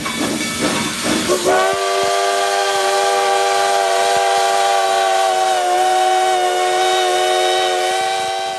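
A steam locomotive lets out a long, loud whistle held steadily over a rushing hiss of steam, after a brief chuffing start. It is heard alone, with no voices.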